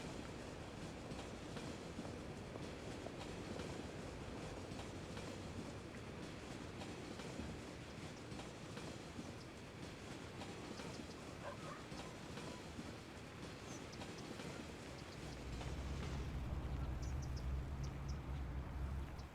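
A tram riding along its rails gives a steady, close rumble with faint rattles throughout, growing slightly heavier and louder near the end.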